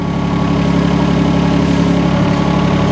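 A mini excavator's small diesel engine idles steadily at close range, a low, even rumble with a constant throbbing vibration and no change in pitch.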